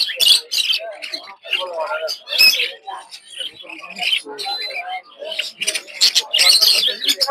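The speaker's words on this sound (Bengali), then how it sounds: "সব হচ্ছে ক্লাসিক বাজিগর" Budgerigars at a village bird market at Puthia keep up a dense, steady chatter of high chirps and tweets throughout, close and fairly loud, with voices mixed in among them.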